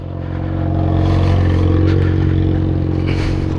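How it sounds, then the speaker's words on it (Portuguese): Motorcycle engine left idling nearby, a steady loud low rumble with a slight swell in level, running on its own without any voices. "Fica a moto ligada, viado."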